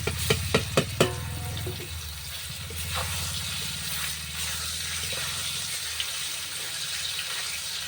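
Boiled papaya fries in a pan with garlic and dried chilli. Several sharp utensil taps sound first, then a soft, steady sizzle and faint stirring continue to the end.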